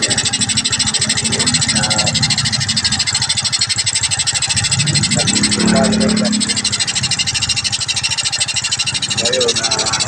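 Yamaha Crypton Z motorcycle engine idling steadily in stock condition, a continuous close putter with a brief rougher surge midway, running throughout.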